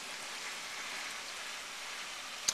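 Heavy rain from Hurricane Irene falls in a steady, even hiss that holds without a break, a dense outdoor downpour with no voices and a brief faint click right at the end.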